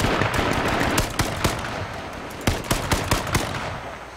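AK rifle gunfire in the video game H1Z1, with sharp shots in quick bursts and single cracks spread over a steady noisy battle background, fairly close and loud, with no talk.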